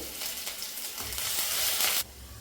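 Ginger sizzling in coconut oil for a fish curry, a steady close crackle with a few faint stirring knocks, ending abruptly in a quieter sizzle.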